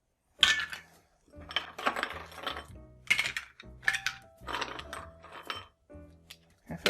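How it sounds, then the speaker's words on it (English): Ice cubes clink and rattle against a glass as they are dropped into a Moscow Mule made with ginger beer and herbs, in a series of close, sharp knocks and jingles set apart by short pauses. "after a quick stir, we're ready for a little bit more ice"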